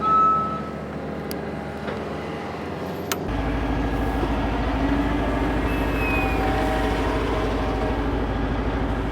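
A semi truck, a Super B rig, backs out while its reversing alarm beeps steadily over the loud, constant diesel engine rumble.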